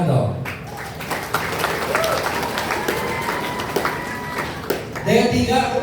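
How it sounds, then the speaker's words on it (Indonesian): Auditorium applause from a crowd of new students at a campus welcome event, a dense rattling wash of many hands clapping together that holds steady for several seconds and swells again near the end, with some voices mixed in. "Tepuk tangan dong."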